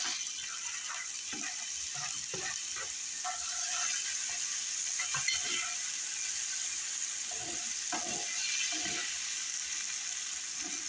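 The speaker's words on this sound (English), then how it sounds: "I'm going to put the peppers, onions, and celery" Peppers, onions and celery sizzle in a pan alongside sausages for jambalaya, a continuous hiss of frying with scattered clicks and stirring taps near the pan.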